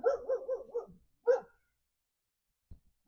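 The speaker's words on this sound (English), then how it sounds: "So we got the dogs out here." Dogs bark outdoors nearby: a quick run of four close barks, a pause, a single bark, then faint thumps, with no talking.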